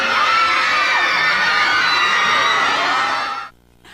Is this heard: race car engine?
no